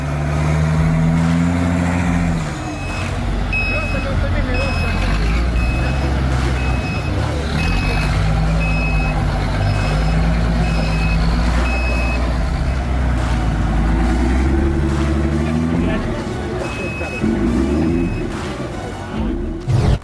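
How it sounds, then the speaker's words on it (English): An IFA W50, an East German military off-road truck used as an off-road taxi, drives with a steady loud engine rumble. Repeated high reversing beeps sound throughout, with faint voices in the background. "The IFA W50 doubles as an off-road taxi."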